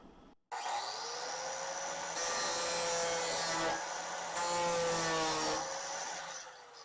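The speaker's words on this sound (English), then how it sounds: "We'll just grind this off." An angle grinder cuts through metal on part of a stove, a high, continuous whine that starts abruptly and holds steady with slight shifts in pitch as it bites into the workpiece.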